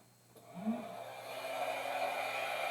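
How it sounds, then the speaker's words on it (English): A craft heat tool starts blowing over a card kit piece for an arranged wreath card, a steady, close airy whoosh that rises after a short click and then holds evenly with no talking. "when you heat this with your heat tool"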